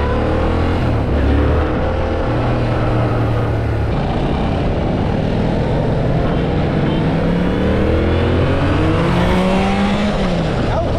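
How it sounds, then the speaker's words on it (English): A Yamaha MT-07 motorcycle engine drones continuously while riding on the road, its pitch rising and falling with throttle over steady wind and road noise. "The engine sounds good on the road like this."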